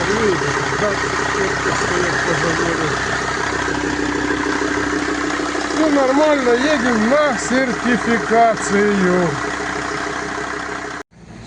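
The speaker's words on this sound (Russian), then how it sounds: "Все красиво, моторчик мурчит." A Mercedes Sprinter van's swapped-in 2.7 CDI OM647 diesel engine idles steadily throughout with a low, even rumble, while someone talks over it close by.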